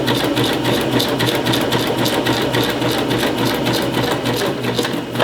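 A sewing machine runs steadily while stitching a straight line, giving a fast, even mechanical chatter close up with no talking.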